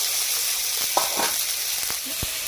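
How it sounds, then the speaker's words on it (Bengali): Garlic cloves, tomato and ginger fry in hot oil with a loud, continuous close sizzle, with a few stirring scrapes and taps rising over it. "এই তেলের মধ্যেই 6টা কোয়া রসুন দিয়েছি, ভেজে নেব। আর টমেটো একটা ভেজে নেব, আদা একটু ভেজে নেব।"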